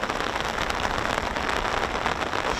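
Rain falling outdoors beside an air base runway, a steady dense hiss and patter that stays loud and even throughout with no voices.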